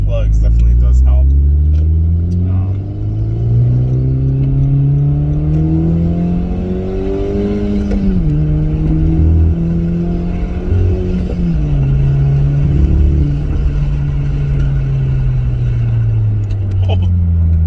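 A Honda Civic Type R engine with a misfire runs loudly and steadily, its low drone rising and falling in revs with a rough, uneven pulse throughout.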